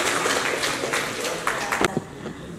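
Applause at an art charity fair at Nehru Art Gallery, Worli, a steady wash of clapping through the clip, with a few sharper claps standing out near the end as it fades.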